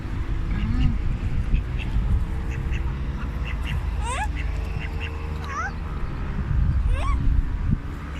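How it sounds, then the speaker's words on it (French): A duck quacks several times close by on a countryside stroll, short nasal calls standing out over a steady low background, with people talking around it. "le canard, il vient te voir"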